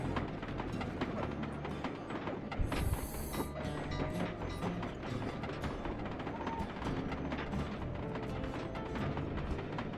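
Slow train in Sly 2 rolling steadily along rails in a snowy northern setting, a dense continuous mechanical clatter with repeating rhythmic clicks and thumps, fairly loud and close throughout.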